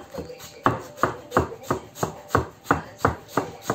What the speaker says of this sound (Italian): andiamo a tagliare a piccoli pezzetti